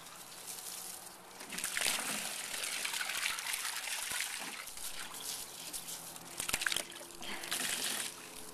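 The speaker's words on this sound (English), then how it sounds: "Go water the plants, Landon." A garden hose sprays and splashes water steadily with a bright hissing rush, close by, rising and falling slightly over several seconds.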